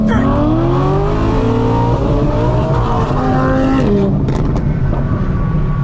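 A modified Corvette accelerates hard in a 30 mph roll race, its engine loud and steady as the pitch climbs, with a shift just before the end and a brief sharp squeal.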